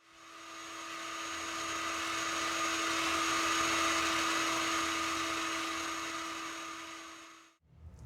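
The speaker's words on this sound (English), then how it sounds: "Now you might have to heat up a couple of the silicone joints" A heat gun runs steadily as it warms the silicone joints holding a mirror frame, a close, continuous whirring blower noise that holds level for about seven seconds before cutting off.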